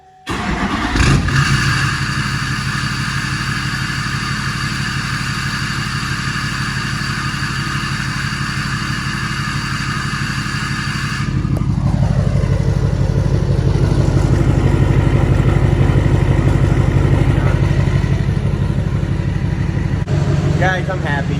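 A Duramax diesel truck engine cranks and fires up, settling into a steady, loud idle that grows heavier midway through with a deep low rumble, running continuously with no talk over it.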